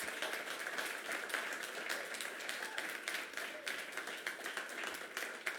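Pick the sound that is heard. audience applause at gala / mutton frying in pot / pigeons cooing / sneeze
audience applause at gala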